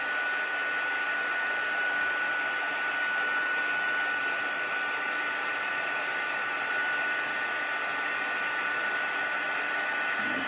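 A heat embossing tool blows hot air over gold embossing powder on a card, giving a constant whooshing fan hum with a faint whine that holds steady throughout, close and alone.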